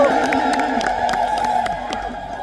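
An Ethiopian Orthodox Tewahedo congregation ululates in celebration at a large prayer gathering, with many voices sustaining loud, close, high trilling cries that pulse continuously throughout.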